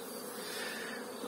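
Honeybees flying near their hives on a warming spring day, a faint, continuous buzzing drone of wings with no other sounds.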